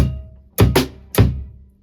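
Three loud, close cowbell strikes landing together with bass drum thumps in a syncopated pattern, each ringing briefly before fading.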